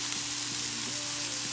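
Smash burgers fry in butter on a hot griddle, a dense, continuous loud sizzle close by with no pauses.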